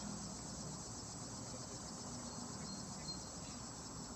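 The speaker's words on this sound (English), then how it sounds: "listen to that cicada. The cicada symphony." Summer cicadas, a continuous high shrill buzz holding steady throughout, faint and distant in an outdoor soundscape with no talking.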